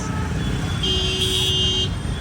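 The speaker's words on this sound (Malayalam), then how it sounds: "എന്ത് മാത്രം ഹോൺ അടിയാണെന്ന് ഇവിടെ" On a busy market street in Ujjain, a car horn blares one sustained honk over constant traffic and street bustle.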